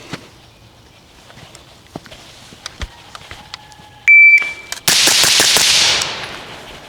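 Shooting drill with an AR-15 rifle: a shot timer's electronic beep, then a quick burst of loud, sharp rifle shots fired in rapid succession, trailing into a ringing echo, after some quiet clicks and handling noises.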